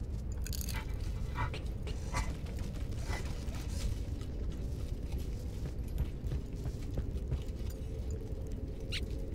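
Dogs chew on toys in the video game Bear With Me: The Lost Robots, a steady stream of close, crunchy biting and gnawing that runs continuously without pause.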